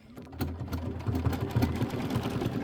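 An embroidery machine stitches a tack down on a quilt block, its needle tapping in a rapid, regular mechanical rhythm close by, with a soft motor hum beneath.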